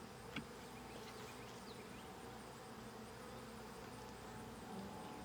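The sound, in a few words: honeybees buzzing around an open hive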